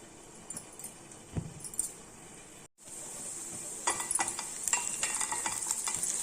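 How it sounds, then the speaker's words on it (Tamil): Ginger and green chili sauté in oil, sizzling steadily with light stirring and clinks of a utensil against the pan, growing busier toward the end; no one speaks. "கொஞ்சம் வதக்கி விட்டுறலாம்"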